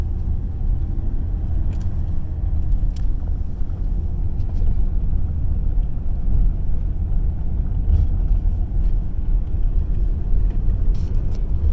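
A manual Ford Ranger pickup engine drones steadily in second gear, a low rumbling hum with road and wind noise, close and constant with occasional faint rattles.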